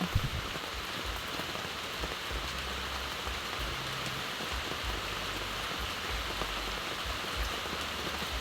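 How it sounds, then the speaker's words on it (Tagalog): Heavy rain pours steadily, a dense continuous hiss of drops drumming on a surface with no pauses. "Malakas po ang ulan."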